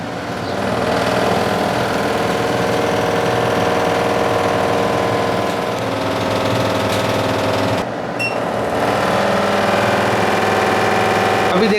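Kitchen chimney exhaust fan running on its second speed setting, a steady motor whir and airflow hum that holds at an even level throughout, close and continuous with no talk.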